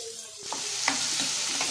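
Onions sizzling in a pan with cinnamon and cloves for tomato kurma, a short close burst of frying with stirring scrapes over a steady hiss.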